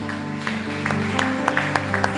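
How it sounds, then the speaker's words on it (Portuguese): A church congregation claps after a sermon, a modest burst of applause with scattered individual claps over a steady background hum. "Aplauda bem forte o nome dele."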